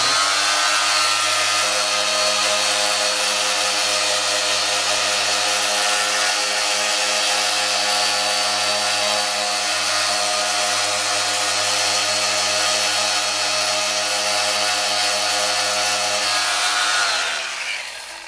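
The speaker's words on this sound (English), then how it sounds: "this little detail part up here with my other power sander." A power sander works on Yamaha FZ600 fairing bodywork parts, giving a loud, close, continuous buzzing drone that holds steady for many seconds before winding down at the very end.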